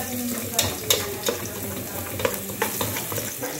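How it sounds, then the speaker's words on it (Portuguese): Garlic sizzles in hot oil as it fries toward crisp, a dense steady crackle with a few sharper spatula taps and stirring scrapes throughout. "Vou esperar ele fritar até ficar um alhinho bem sequinho"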